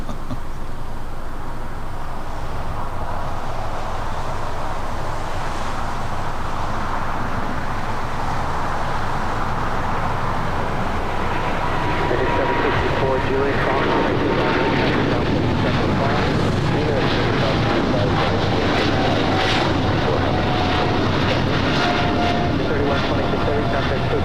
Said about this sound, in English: I've got that 777 freighter now rolling down